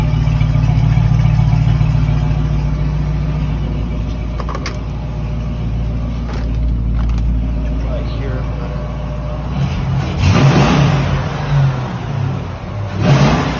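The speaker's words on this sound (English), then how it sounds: "even after a rev and stuff on a cold start, we still got no smoke or anything." A 1968 Plymouth Barracuda engine idles after a cold start, then revs up in a couple of bursts near the end, with someone talking over the steady engine drone.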